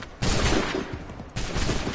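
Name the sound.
gunfire volley in the video game Assassin's Creed 3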